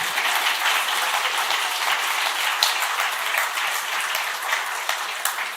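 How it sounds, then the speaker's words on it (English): Sustained audience applause for the contestants at a programming contest world finals, a steady dense wash of clapping from a crowd throughout with no talk. "Huge round of applause, please, for our wonderful contestants"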